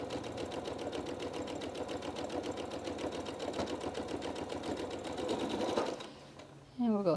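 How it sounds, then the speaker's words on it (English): A sewing machine runs steadily with gray thread, stitching around the edge of a fabric elephant. The even mechanical whir lasts about six seconds and then stops, while someone talks over it. "I'm using kind of a gray thread on my machine today. So I'm just going all around"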